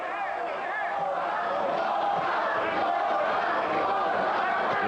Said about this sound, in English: The fans vocally behind the challenger Merqui Sosa.